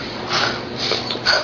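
A child imitates a pig's snort with three short, breathy snuffling bursts spread across about a second and a half, fairly close and moderately loud, with no other sounds around them.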